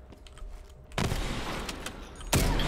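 Bursts of rapid gunfire crack loud and close in a Call of Duty: Black Ops Cold War 3v3 Gunfight match on the Mansion map, one sustained volley followed by another sharp burst near the end.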